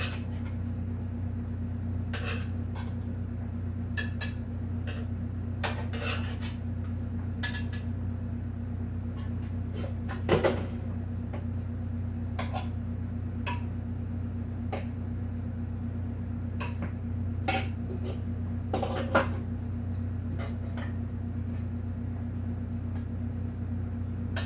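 Plates and cutlery clink and clatter in scattered light knocks as supper of smothered deer steak, fried potatoes, northern beans and cornbread is dished up, over a steady low kitchen hum with no talking.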